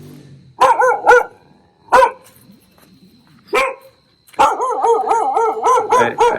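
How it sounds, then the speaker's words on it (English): Dog barks in separate bursts: a pair of sharp barks, a single bark, another short bark, then a long run of rapid continuous yipping and barking, all close and loud with no talk. "So now let me chase this dog."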